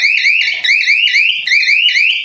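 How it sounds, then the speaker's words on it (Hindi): A jhatka electric fence machine sounds its alarm loud and close, a rapid repeating electronic warble of rising chirps cycling without pause. "साथ साथ इसमें अलार्म भी है।"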